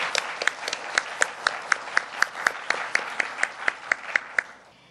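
An audience at the opening session of an ombudsman conference applauds the speaker with steady, rhythmic clapping. The beats are regular, like unison clapping, and hold for about five seconds before trailing off.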